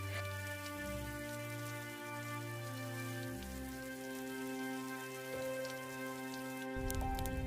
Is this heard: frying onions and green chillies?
no